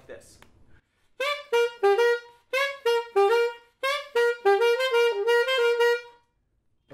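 The melody of a blues tune played on a horn-like instrument, a close, clear line of short detached notes in a jazzy rhythm, alone after a brief moment of quiet.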